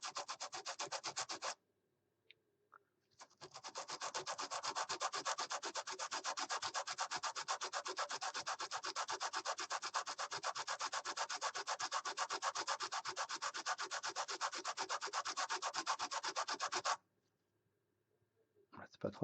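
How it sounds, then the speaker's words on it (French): Sanding a pre-painted Rackham miniature figurine base gives a close, steady rasping rub that runs continuously for most of the stretch after a brief first burst and a short pause, with no talking over it. "on ponce les socles"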